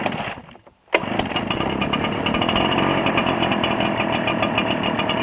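Echo PB 770T backpack leaf blower catching on a cold start: a brief lull, then the two-stroke engine bursts to life and settles into a loud, steady, close-up roar with a buzzing high-pitched drone, no one speaking.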